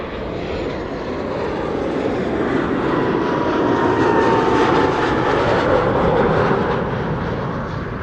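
An Embraer 190 airliner arriving at an airport, its engines a steady, moderately loud whine and rumble that swells in the middle and eases slightly toward the end, with a thin tonal whistle drifting through.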